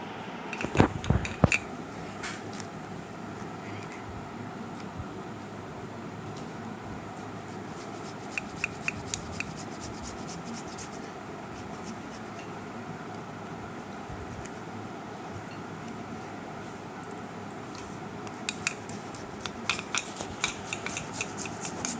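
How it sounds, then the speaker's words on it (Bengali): Boiled potatoes rubbed over a metal grater make faint, repeated scraping strokes that come in short bursts against a steady background hum, with no talking. "আলুকে সিদ্ধ করে নিয়েছি, এবার আমি গ্রেটারে গ্রেট করে নেব।"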